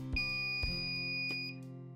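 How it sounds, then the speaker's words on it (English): A thin, steady electronic beep from a liquid level indicator rings for over a second as water reaches its prongs, preceded by a couple of soft clicks and clatter. "when you pour and the water hits the little prongs, you'll hear a beep."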